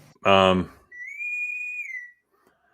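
A short loud voiced burst is followed by a steady, clear, high whistle tone lasting about a second, from the Boston's whistle in Star Trek, then silence.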